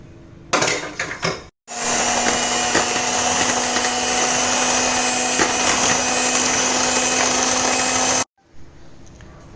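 An electric hand mixer whirs steadily for several seconds while blending sugar and oil into vanilla cake batter in a bowl, preceded by brief clatter and a short pause.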